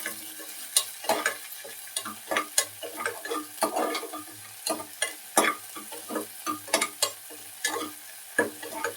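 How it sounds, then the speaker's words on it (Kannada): Green chillies sizzle and crackle in hot oil while a spoon stirs and scrapes the pan, steady frying hiss broken by frequent clinks, all close up with no talking. "ಎಣ್ಣೆ ಕರಗಿದ್ಮೇಲೆ ಹಸಿಮೆಣಸು ಹಾಕ್ಕೊಡ್ತೀನಿ."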